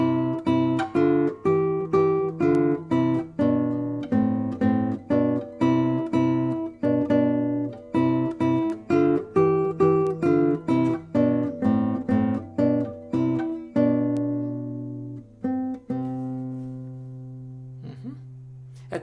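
Plucked guitar notes harmonized in tenths above a low bass line, played at an even pace and ringing out on a final sustained chord. No talking.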